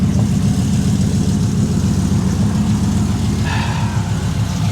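Dodge Viper SRT-10 truck with an oil catch can, its engine idling steadily outdoors with a deep, loud, continuous rumble and a slight rise in pitch near the end, no talking.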